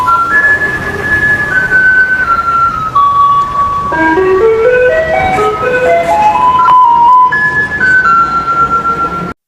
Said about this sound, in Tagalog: ibig sabihin na riyan na ang truck na nangongolekta ng mga basura